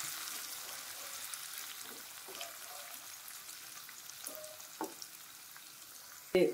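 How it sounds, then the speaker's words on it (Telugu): Tempering for katte pongal sizzling in hot oil, a soft steady frying crackle with light stirring clinks and a louder burst at the end. "ఇప్పుడు ఈ పోపుని ఆ కట్టి పొంగల్లోకి యాడ్ చేద్దాం"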